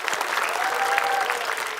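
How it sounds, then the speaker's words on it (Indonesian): An audience claps steadily throughout, a dense wash of applause with a faint tone sustained briefly in the middle. "Boleh kasih tepuk tangan?"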